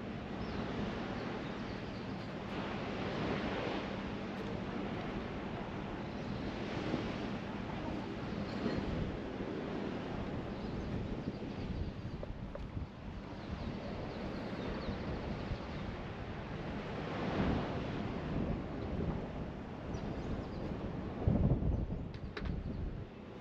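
Wind and gentle surf at the empty Plage des Salines on a calm day after light rain: a steady, even wash of broadband rushing noise with soft swells, fairly distant and without talk.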